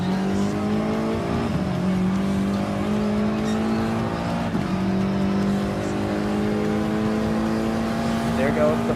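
Gran Turismo Sport race cars, including a Ford GT LM race car, a Ferrari 458 GT3 and a Ford GT Spec 2 test car: a loud continuous engine drone with gear-shift dips and brief tire squeal, under commentary.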